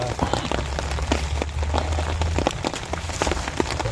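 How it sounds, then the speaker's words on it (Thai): Rain pours steadily on an outdoor fishing spot, a dense, even hiss with scattered sharper drop hits and a low rumbling undertone throughout, with no talking. "ฝนตกอีกแล้วครับพี่น้อง"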